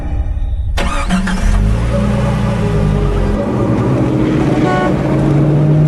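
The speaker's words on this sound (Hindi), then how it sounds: "लक्ष्य अपनी गाड़ी से आनंद के घर पहुंचता है" A car starts up and drives along, its engine a steady mid-pitched hum with broadband road noise that holds loud and close throughout, alone without talk.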